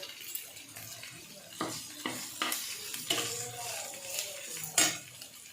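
Tomato, capsicum, carrot and other vegetables cook in a pan with a soft sizzle, while a spoon stirs and scrapes the pan in several sharp knocks at close range.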